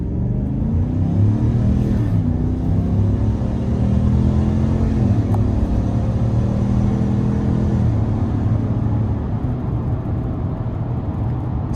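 A 2026 GMC Sierra 1500 AT4X with the 6.2 V8 accelerating hard, a loud sustained engine roar heard from inside the cab, pitch climbing through the gears with brief shift dips and no talking.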